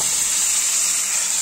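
Chicken gizzard and liver (pota kaleji) frying with browned onions in a pan, a steady close sizzling hiss that runs unbroken and evenly loud throughout.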